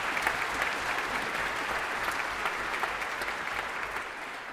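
An audience at a singing competition finals concert applauds for the compere, a steady, even wash of clapping heard at moderate distance, sustained throughout without speech.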